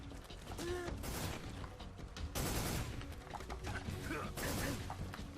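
Dense gunfire and crashing impacts fill a hectic firefight in the video game Metal Gear Solid 3 Snake Eater, loud and continuous with bursts of shots and clattering mechanical effects.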